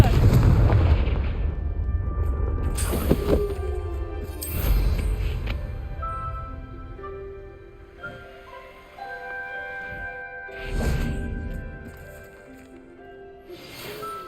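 Confringo fire spells exploding in the Hogwarts Legacy video game: several loud booming bursts, the biggest near the start and middle, over a layer of game music and ambient effects.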